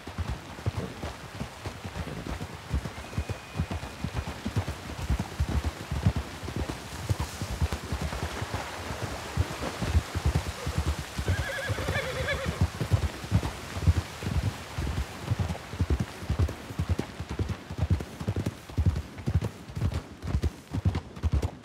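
Steady clip-clopping of a black horse's hooves on hard ground, a continuous rhythmic trot with light wind noise in the background.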